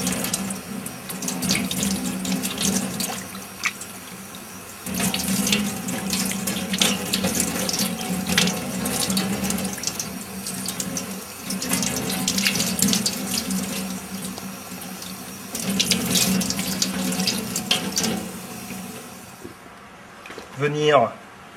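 Tap water running into a sink while freshly scaled fish are washed, a steady close splashing stream with shifting surges, a voice speaking over it, ending in a few sharp clatters.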